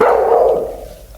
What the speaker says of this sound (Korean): 도우미관이 곧바로 큰 소리로 짖어 주위에 도움을 요청합니다